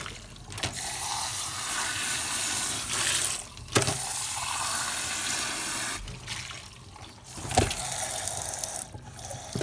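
Tap water running steadily over a lobster shell being rinsed out inside, a continuous close splashing stream with brief interruptions and clatter as the shell is moved under the flow.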